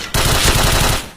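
A Kriss S.V submachine gun fires a short, loud, close automatic burst in the Point Blank video game, lasting about a second with rapid shots and no voices.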